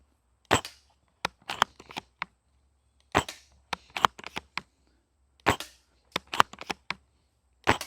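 Silverback SRS airsoft sniper rifle fitted with an M4 magazine adapter firing BBs, a series of sharp, clean snapping shots spaced by short pauses, each followed by faint bolt-cycling clicks, close and with no voices.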